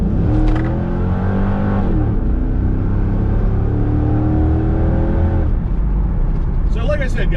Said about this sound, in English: we're going to do a quick acceleration here